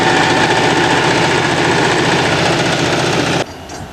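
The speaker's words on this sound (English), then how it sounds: "There's our train, the west end of it, STCR number 10 with Dan Hodson sitting up in there." STCR number 10 train rumbles loudly and steadily near the Rosy Rhubarb Festival in Shedden, Ontario, a dense engine drone with a fast pulsing throb that suddenly drops away near the end.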